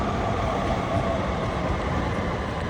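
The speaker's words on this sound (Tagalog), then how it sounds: "meron ding mga tren na nadaan" A steady, rumbling roar of a train rolling past at close range in Ueno, Japan, constant and broadband for the whole stretch.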